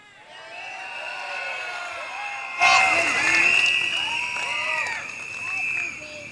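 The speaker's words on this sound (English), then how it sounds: "You should cheer." A political rally audience at a speech by a politician in 2015 breaks into cheering and whooping, a swell of crowd noise that jumps louder midway and stays lively, with shouts rising above a broad din.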